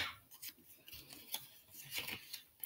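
Close, quiet scissors slice through folded paper for an origami bookmark, giving several rasping snips in a loose rhythm with soft rustling between cuts.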